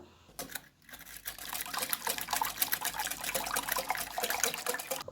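Liquid for an egg pudding being strained and poured off in a kitchen, a steady close trickle and splash that runs continuously for several seconds with no talking.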